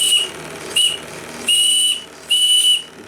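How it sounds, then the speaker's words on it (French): The steam whistle on a live steam model of the Otto Lauffer boat blows indoors in four shrill, hissing blasts: two short toots, then two longer ones, loud and close. "mais je sais que le sifflet siffle donc."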